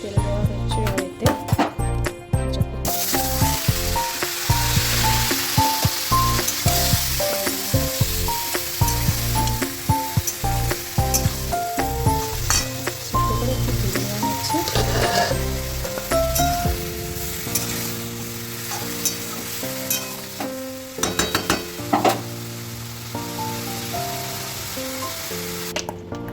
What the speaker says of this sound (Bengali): এঁচড়ের জন্য প্রথমে এঁচড়টা একটু ভেজে নিতে হবে।